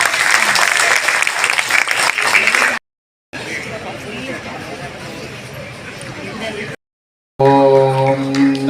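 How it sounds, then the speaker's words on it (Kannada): An audience applauds at a book-release event held at KLE College, with bursts of clapping broken by short silent cuts and mixed with loud talking and music toward the end. "ಚಪ್ಪಾಳೆ ತುಂಬಾ ಕಡಿಮೆ ಆಗ್ತಾ ಇದೆ"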